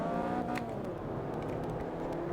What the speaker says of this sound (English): Get the engine revving in our Chevy Aveo.